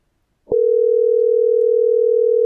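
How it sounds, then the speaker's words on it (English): A telephone dial tone starts abruptly after a short silence and holds as a loud, steady pure tone with no variation through the rest of the call. "Somebody's phone's ringing like we're calling somebody."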